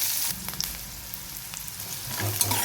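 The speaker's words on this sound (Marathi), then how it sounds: "चिरलेला जो कांदा आहे तो घालून घेणार आहे त्याला छान मऊ होतपर्यंत थोडं परतून घेणार आहे" Chopped onion sautés in a pan for a dhaba-style mixed vegetable dish, making a soft, continuous sizzle with light crackles and brief stirring scrapes nearby.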